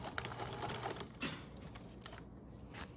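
A sewing machine back stitching on hospital gown fabric, a faint, quick mechanical whir with short bursts and pauses as the stitch direction changes.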